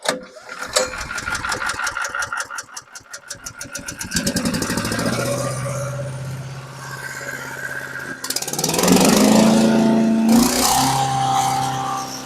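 A Harbor Freight wood chipper's small engine is pulled to start, catches and settles into a steady, loud running drone, with the throttle about a third open.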